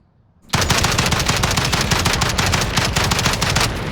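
FAMAS rifle fire in Call of Duty Warzone, a sudden, loud, rapid stream of close gunshots that starts after a brief quiet and continues without pause to the end.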